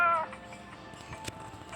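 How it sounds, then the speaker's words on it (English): A cat meows once in a video game, a short clear mew at the start followed by faint game sounds and a soft click. "Here is your cat."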